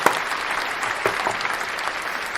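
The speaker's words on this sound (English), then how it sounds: "Y'all get a big a round of applause for effort." A round of applause during a casual afternoon recap show, with moderate, fairly steady clapping and a few sharper claps standing out over the short stretch.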